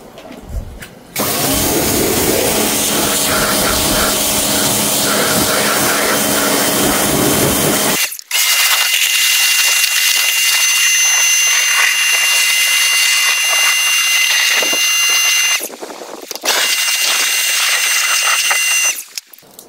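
Water sprays steadily onto a car to rinse it during a wash with nano shampoo: a loud, continuous hiss broken by two brief pauses.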